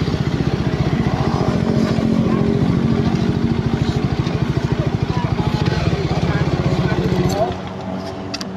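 A motorcycle engine putters loud and close near a police checkpoint in Phra Khanong, a fast steady pulsing that softens near the end, while someone talks over it.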